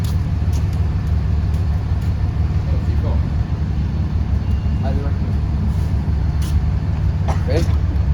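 A Lincoln SA200 welding machine's engine idles steadily and loudly up close, a low continuous rumble that holds level throughout, with faint speech and clanks over it.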